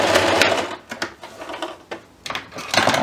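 A sewing machine stitches ribbon onto a reversible Christmas tree skirt, running in close, rapid mechanical bursts separated by brief pauses, with no talking.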